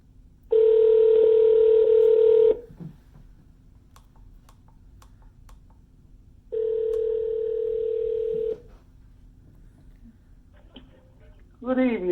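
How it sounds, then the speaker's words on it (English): A telephone handset sounds out in two long steady tones about two seconds each, separated by quiet gaps, followed by a short burst of rapid tones near the end, with faint background noise between. "Let's give him a call, see what he says, Mr. Tommy."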